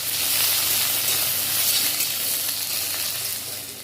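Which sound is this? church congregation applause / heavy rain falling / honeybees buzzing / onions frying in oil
onions frying in oil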